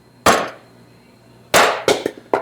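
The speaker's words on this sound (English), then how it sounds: "Well, I got a little bit bigger hammer." Hammer blows ring out on an HEI distributor being fitted to an LS 5.3 engine: one loud metallic clang, a pause, then a cluster of three or four sharp strikes close up.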